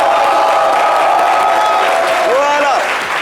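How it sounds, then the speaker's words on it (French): Studio audience applauding and cheering for actor-director Djakis Diarra on a live talk show, a dense, steady wash of crowd noise with whoops, plus brief musical tones near the end. "merci de l'applaudir bien fort"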